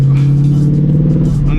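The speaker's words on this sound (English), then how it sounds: "if you have to ask me how I like the exhaust setup" Ford Mustang with an aftermarket exhaust setup, idling and revving in a close, loud, steady low rumble that holds throughout the moment.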